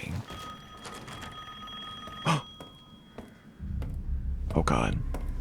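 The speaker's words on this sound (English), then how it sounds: "The phone's ringing." A phone rings with a steady electronic tone in the background of the video game Resident Evil Village while a voice speaks over it and other sounds intrude.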